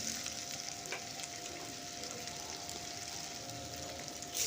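Cumin, dried chillies and ginger frying in hot oil in a pan for Bengali aloo dum, a steady close crackling sizzle with faint stirring scrapes, no voices.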